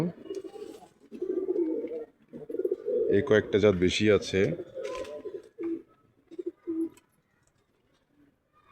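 Several domestic pigeon breeds kept caged for winter coo in soft, rolling bursts close by, while someone talks over them in between.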